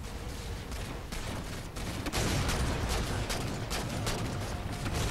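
Rapid gunfire from the Halo 4 pistol during a Big Team Infinity Slayer match, a dense run of loud overlapping shots with other weapon fire throughout, growing louder midway.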